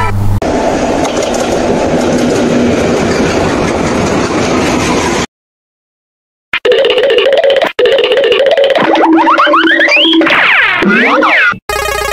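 A diesel train in a children's vehicle sound sequence: a loud, steady rumbling run, then a brief silence, then clattering bursts and rising, sweeping horn-like tones that end abruptly.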